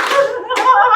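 A school class claps hands in a short three-beat clapping routine, two or three sharp bursts of claps close by, mixed with children's voices chanting along in the classroom.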